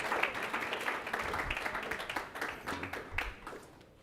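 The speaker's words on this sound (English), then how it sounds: "let's give a round of applause and thanks to both Robert Rezaian and Sean Penn" Applause from an audience for Robert Rezaian and Sean Penn after a panel discussion on hostage diplomacy, a steady crackle of many hands clapping at moderate level throughout.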